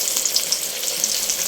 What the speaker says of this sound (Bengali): বেগুনটা এখন ভাজি ভাজি করতেছি